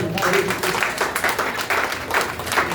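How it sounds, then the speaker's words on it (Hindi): An audience at a Hindi literary gathering claps in loose, pulsing bursts, with voices audible mixed in among the claps. "ताली बजा दो फिर।"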